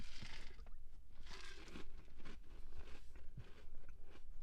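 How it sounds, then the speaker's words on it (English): Crunchy cereal with cold milk being chewed up close, a steady series of soft, moist crunches and bites repeating at an even pace, quiet and with no talk. "Crunchy cereal, cold milk, the cereal sipper."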